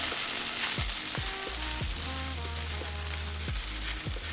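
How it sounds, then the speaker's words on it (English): Butter sizzling in a pan for homemade panko mac and cheese: a constant, close frying hiss with a few low, falling tonal sweeps mixed in, and no speech. "Hear that butter sizzling."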